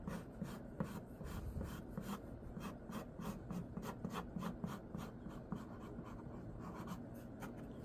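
A pencil draws a tank top on a female figure, making quick, rhythmic scratching strokes across paper. The strokes come steadily and close up, with no talk.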